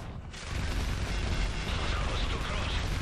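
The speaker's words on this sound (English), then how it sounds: "I'm going to throw a grenade in there" Grenade explosion in the video game Modern Warfare 3: a sustained, loud, rumbling boom with heavy low-end roar filling the whole stretch after a brief quiet start, dense and noisy like gunfire-laden battle chaos.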